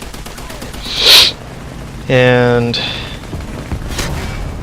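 An FV4202 tank fires its cannon in a tank video game: one sharp loud blast followed by a ringing metallic tone, with a few quieter shots and clatter around it and a brief spoken word.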